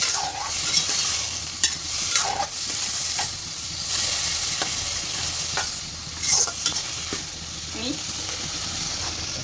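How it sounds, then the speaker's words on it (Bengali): Crab frying in a pan with taro, a steady sizzle running throughout with occasional stirring scrapes and soft knocks, close and moderately loud, with faint voice in the background. "এই হচ্ছে ভাজা কাঁকড়া"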